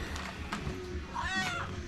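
A cat meows once, a drawn-out rising call at moderate distance, over a steady hum of background noise in a workshop setting.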